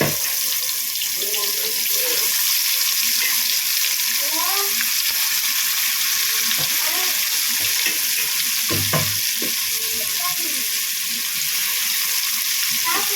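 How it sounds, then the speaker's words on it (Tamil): Fish pieces fry in hot oil in a small kadai, giving a steady broadband sizzle throughout with occasional stirring and scraping clatter, close and fairly loud. "ஹீட் ஆனதுக்கப்புறம் நம்ம மீன் எடுத்து போட்டு மீன் வறுத்து எடுத்துட்டா மீன் வறுவல் முடிஞ்சிடும்"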